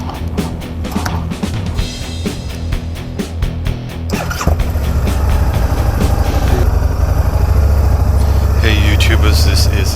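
A 2017 Harley-Davidson V-Rod Muscle motorcycle starts and settles into a loud, steady idle, with a deep continuous engine rumble growing heavier after a few seconds.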